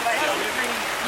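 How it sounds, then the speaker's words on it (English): Rain falls steadily at an outdoor race meeting, a soft, even hiss of drops on surfaces, continuous and moderately close. "Oh, I love the rain."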